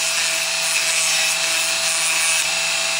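Wooden mannequin doll part having its top rounded, a continuous bright rasping rub of tool on wood, steady and close, with a faint low hum beneath and no talking.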